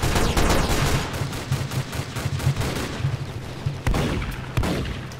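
Rapid bursts of cannon and gun fire from the Roblox airship battle game Zeppelin Wars pound close and loud, with a dense volley at first and scattered heavy shots afterward, and no talking.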